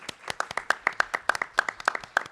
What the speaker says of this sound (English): please clap that up.